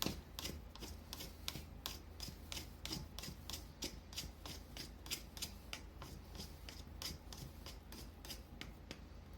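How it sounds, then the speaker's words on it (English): Sourdough dough scraped down the sides of a bowl, a quiet series of soft rhythmic scraping strokes repeating steadily, close and faint with no talking. "Now we are going to scrape the bowl to get everything down."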